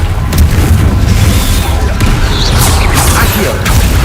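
A loud, booming fire explosion from the Confringo spell in the video game Hogwarts Legacy, a heavy rumbling blast that fills the moment, with whooshing bursts on top.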